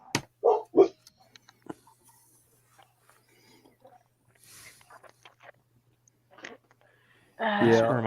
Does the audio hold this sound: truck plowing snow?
no